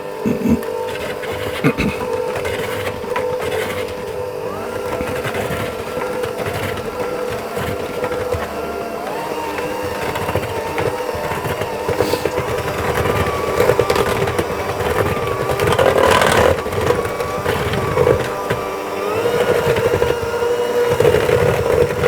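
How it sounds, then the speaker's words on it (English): Cake batter for mini mincemeat Christmas cakes being mixed until light and fluffy, likely with an electric mixer, giving a steady mechanical whir that rises slightly in loudness toward the end, with no talk. "I'm going to mix that together until it's light and fluffy"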